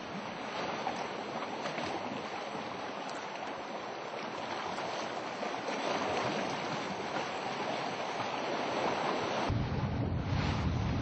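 Ocean waves wash continuously against the rocky cliffs of Geogeumdo island, a broad, steady roar with wind buffeting the microphone, growing slightly louder toward the end.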